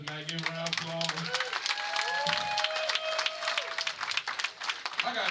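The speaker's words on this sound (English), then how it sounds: "Give a round of applause." Applause and cheering from a comedy show crowd, building into a steady wash of clapping with some voices and shouts mixed in, while musical tones ring over the opening seconds.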